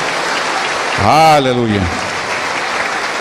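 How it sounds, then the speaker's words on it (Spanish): A church congregation claps steadily throughout a short stretch while a single voice rises over the middle of it in a sung or shouted exclamation, then the clapping carries on beneath. "Aplauso para el Señor Jesús."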